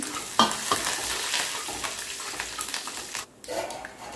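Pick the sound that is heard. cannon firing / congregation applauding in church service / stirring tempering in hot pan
stirring tempering in hot pan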